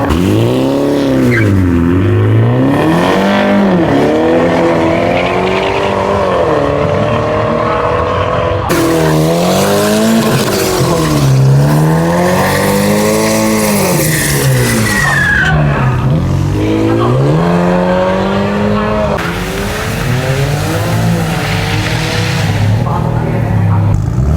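Cars at a university drag racing event, loud engines revving and accelerating in repeated rising and falling sweeps with changing pitch, close by and dominant, one run following another.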